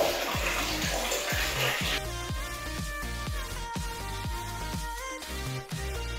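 Water is poured over a heavy mat being washed with detergent. The splashing and rushing is loud and continuous, with repeated low thuds under it.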